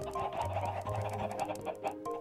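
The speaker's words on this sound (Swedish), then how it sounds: "Det är en kyckling." Chicken in the Minecraft video game clucking in a short, busy burst of repeated calls, fairly quiet and with no talk over it.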